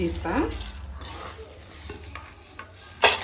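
Metal spoon scraping and stirring moringa leaves as they fry golden in oil in a pan, with scattered clinks and scrapes against the pan, a soft sizzle beneath, and a sharp scrape near the end.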